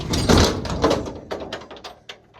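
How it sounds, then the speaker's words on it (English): A door is tugged open with a few rattling thumps and scrapes, loud at first, then trailing into smaller clicks and knocks as it gives way. "I gotta get this door open"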